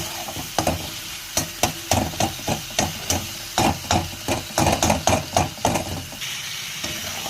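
Papaya and potato pieces fry in plenty of hot oil, with a steady sizzle broken by a rapid series of sharp knocking and scraping strokes from stirring, close and loud with no talk.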